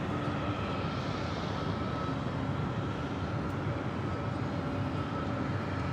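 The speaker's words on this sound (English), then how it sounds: "It's a 30-year-old MD-11, originally delivered in February of 1993." A 30-year-old FedEx MD-11 cargo jet at Los Angeles International Airport gives a continuous broad roar. It stays loud and steady for the whole stretch.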